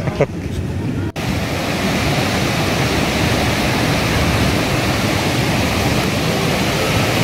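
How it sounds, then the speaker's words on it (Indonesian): Surf rolls onto a city beach in Bengkulu as a loud, steady broadband wash with wind buffeting the microphone. A brief thump comes near the start, then the roar carries on evenly. "Pantai zakat ini adalah pantai yang nggak pernah sepi."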